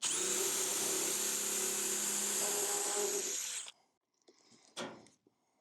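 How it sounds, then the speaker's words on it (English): A power drill whines loudly and steadily for a few seconds drilling through aluminum, then stops abruptly, followed by a couple of brief clunks and scraping handling noises. "I'm mounting this through aluminum, so I need to drill a hole first"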